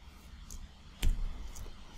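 Computer mouse clicks while working in Adobe Photoshop: a few faint, sharp clicks over a low hum, with one slightly louder click about midway.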